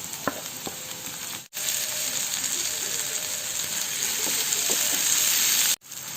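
Chopped tomato sizzling and frying in a pan with ginger and garlic, a steady close hiss of hot oil with brief stirring noises and two short dropouts, no talking.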